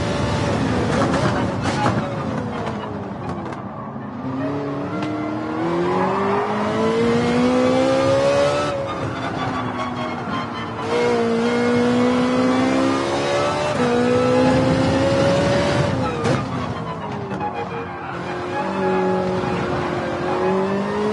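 A Gr.4 race car laps the Nurburgring in Gran Turismo 7, its engine revving steadily up and down through repeated gear shifts, loud and continuous.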